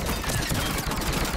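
Dense, continuous rattling gunfire from the video game Mass Effect 3, a loud burst of rapid shots that fills a short stretch with no spoken words.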